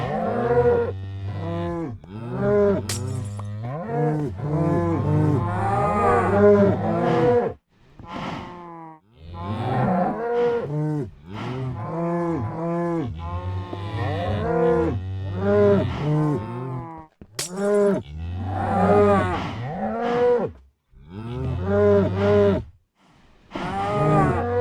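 Cows in a Minecraft cow farm moo over and over, one low drawn-out call after another with brief gaps between, loud and close with no talk over them.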